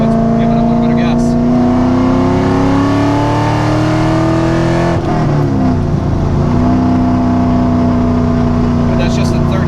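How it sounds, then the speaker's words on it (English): A cammed C5 Corvette engine in third gear revs loud and close, a rising drone that climbs steadily, dips briefly at midpoint, then pulls again, rumbling and continuous throughout. "Just shifted it to third, and let's give it a little bit of gas."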